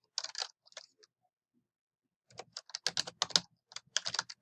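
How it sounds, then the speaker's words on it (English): Close, crisp keystrokes on a computer keyboard come in two clusters separated by a pause, the second a faster run of clattering taps, with no talking. "So now I'm going to type our second author"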